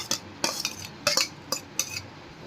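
Methi chana pickle being mixed with mango pieces in a bowl using a metal spoon: five or six distinct clinks and scrapes against the dish, spaced about half a second apart, close by.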